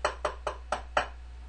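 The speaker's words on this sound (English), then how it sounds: "knock knock sound that will say, "Oh, I've got a visitor,"" A computer alert plays a crisp knock-knock sound to announce a visitor: five quick, evenly spaced raps on a door, clear and close, over a low steady hum.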